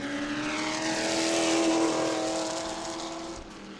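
A Pro Truck, the yellow and black number 07, roars along the track at a qualifying session in New Smyrna, its loud engine tone sweeping steadily with no one speaking.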